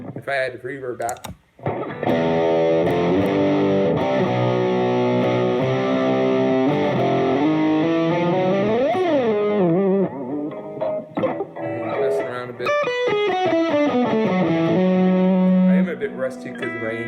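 Distorted electric guitar playing sustained chords and bending notes with a washy reverb tail, loud and continuous, with a brief gap near the start.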